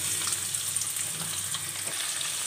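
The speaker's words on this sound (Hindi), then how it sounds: "ऑयल गर्म हो गया है, अनियन ऐड करते हैं और अनियन को सौते करेंगे" Chopped onions sauté in hot oil in a pan, giving a steady, close sizzle that holds evenly throughout with no voices.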